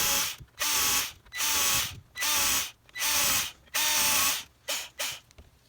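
A power drill with a 5mm self-centering bit bores holes in wood in repeated bursts, about seven roughly one-second runs separated by short pauses, the later ones shorter, loud and close.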